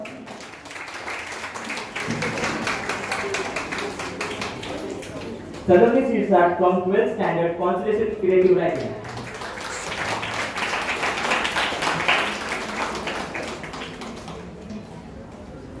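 Audience applause for student award winners at a school foundation day celebration, a mid-level patter of many hands under an announcer's voice, swelling briefly in the middle.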